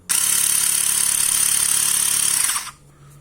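A Xiaomi Mijia portable electric tire inflator runs at a steady, loud mechanical whine with a motor buzz beneath. It continues for about two and a half seconds, then cuts off, leaving near silence.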